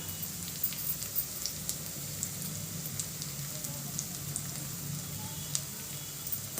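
Curry leaves sizzling in hot tempering oil for a sweet payasam dish, a steady close crackling hiss with small pops scattered throughout, alone without talk.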